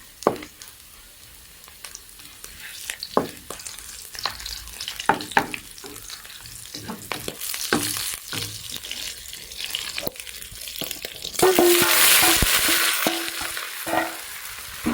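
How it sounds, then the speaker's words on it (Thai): Ginger, garlic and chili being stir-fried in a pan, with a soft sizzle under repeated sharp scraping strokes of a utensil, and a louder hiss surging near the end. "ผัดขิงกับกระเทียมแล้วก็พริกนะคะ ให้หอมเนาะผัดสักครู่ค่ะ"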